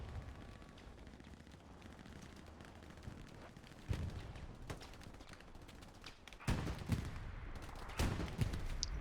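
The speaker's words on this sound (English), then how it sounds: "Axis tank crew really suppressing the point well here. Machine gun fire constantly." Machine gun fire from an Axis tank in the Hell Let Loose video game during a large multiplayer battle, distant rattling bursts and scattered heavier thuds over rumbling battlefield ambience, growing louder toward the end.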